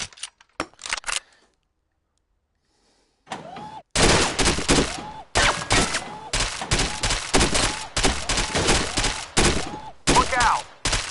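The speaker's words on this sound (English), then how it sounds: "So here we have the P90. It has a top load, recoil, and I did scope on it." Virtual P90 submachine gun firing in a PS4 shooter, several quick clicks and a pause, then repeated loud, close bursts of rapid automatic fire broken by short gaps.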